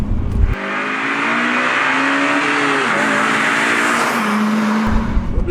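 A stock 143-horsepower Honda Type R in Championship White revs hard while driving, its engine note rising and falling in a loud, sustained drone heard from inside the car, with no talking.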